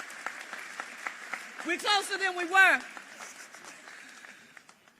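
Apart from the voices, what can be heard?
audience applause for the sheriff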